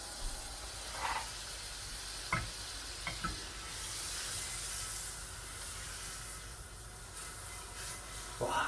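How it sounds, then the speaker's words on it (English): Smoked butter sizzling in a hot pan on the heat, a soft steady hiss with a few faint clinks and stirring scrapes scattered through it, fairly quiet and close. "we'll pop that pan back on, keep it on heat. And in goes the smoked butter."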